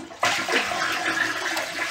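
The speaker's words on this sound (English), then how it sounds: "Then we're gonna flush again." A toilet flushes close by, a sudden loud rush of water that churns steadily in the bowl, on a toilet with a running-water fault and a replaced fill valve.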